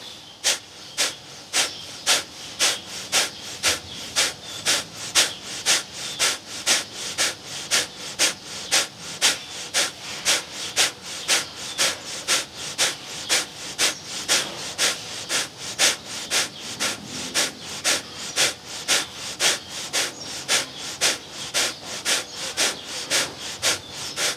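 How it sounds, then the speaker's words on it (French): Deep yoga breathing with steady, rhythmic inhales and exhales, close and loud. Breaths come as regular sharp pulses of airy hiss, roughly two per second, throughout with no speech. "On inspire. On expire."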